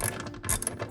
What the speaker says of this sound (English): And then once you do that, you'll take your ratchet